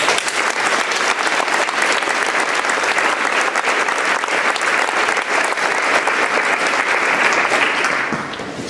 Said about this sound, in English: I'd like us all to join in a round of applause for all of the teachers and the staff